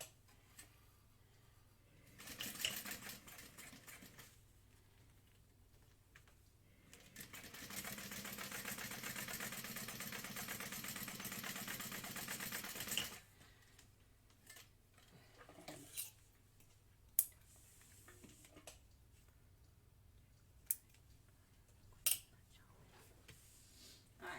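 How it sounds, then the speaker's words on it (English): A sewing machine whirs in two bursts, a short one and then a steady run of several seconds, while top stitching a handbag seam, followed by scattered ticks and clicks of handling fabric at close range. "we're going to top stitch it 1/8 of an inch from that top edge"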